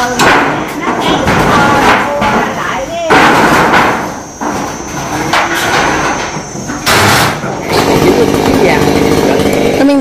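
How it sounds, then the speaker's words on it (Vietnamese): A chainsaw cuts the broken branch of an old banyan tree over 200 years old, a loud, close, sustained buzzing roar that dips and surges as it bites, with voices mixed in. "Bây giờ ba con Hoa lên phần phía trên để cưa cái nhánh bị gãy."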